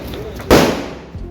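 A Diwali firecracker bursts once with a sharp, loud bang that decays over about half a second amid outdoor festival ambience.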